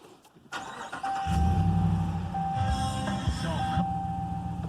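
Car engine starting after the brake pedal is pressed: a short starter crank, then a quick catch into a steady idle, with a faint tone and light beeps from the dash.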